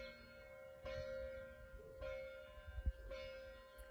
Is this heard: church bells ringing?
yes